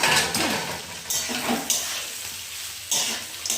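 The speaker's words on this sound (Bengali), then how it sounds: "এই দেখো চিড়ে পোলাওটার জন্য বাদাম আর কিশমিশ আমি খুব ভালো করে ভেজে নিচ্ছি" Peanuts and raisins frying in a pan for Bengali chire polao, with a soft sizzle and a few scraping stirs and clinks of a utensil against the pan. It sounds close and moderately loud, with no talking.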